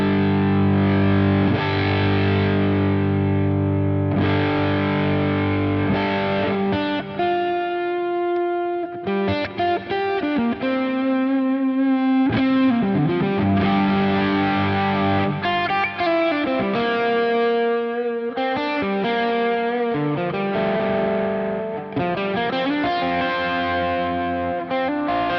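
Ibanez JS1200 Joe Satriani signature electric guitar played through heavy distortion, sustained smooth chords and melodic lines ringing continuously with effects-laden tone, loud and alone without any voices.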